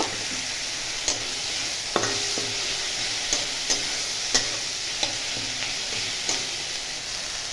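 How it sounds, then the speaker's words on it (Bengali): Chopped tomato fries in a pan for masoor dal with papaya, giving a constant close sizzle broken by regular stirring scrapes and taps roughly every second, with no speech. "এর মধ্যে আমি দিয়ে দেবো কুচিয়ে রাখা একটা টমেটো এবারে সমস্ত জিনিসকে ভালো করে যে ততক্ষণ টমেটোটা না গলছে ততক্ষণ আমি এটা ভেজে নেব"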